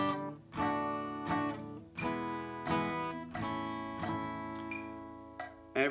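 Strummed guitar chords from a song, changing every two beats in a steady rhythm, each strum ringing bright and full with regular accents across the bar, played alone with no talking.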